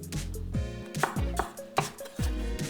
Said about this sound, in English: You just want to cut some slices and then arrange them.